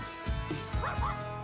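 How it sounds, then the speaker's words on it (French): A few short, yappy electronic barks in quick succession, thin and toy-like, close by over a quiet hum. "Ce chien robot est un jouet interactif hyper cool."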